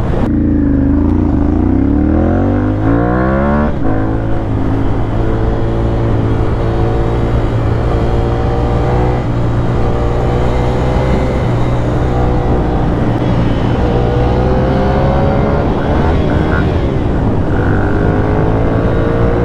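A 2014 Ducati Monster 696 twin-cylinder motorcycle ridden hard, with a loud, steady engine drone whose pitch climbs and drops through gear changes, close to the rider throughout.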